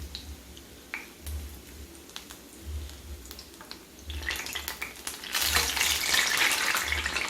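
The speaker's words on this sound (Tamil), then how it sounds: "இப்போ நான் வந்து போண்டாவை திருப்புறேன் பாருங்கள்." Mysore bonda frying in hot oil as the pieces are turned, a steady close sizzle with light clicks and pops that swells louder and brighter toward the end.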